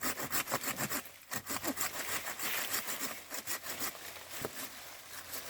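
Small hand saw cutting through a tree branch in an agroforestry plot, steady rhythmic back-and-forth rasping strokes, close and fairly loud, continuous for several seconds without talk.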